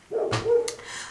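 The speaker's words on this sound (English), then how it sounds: "Very sorry if you can hear my dog barking." A pet dog at home gives a couple of short, fairly faint barks and whimpering yips in quick succession, close by indoors.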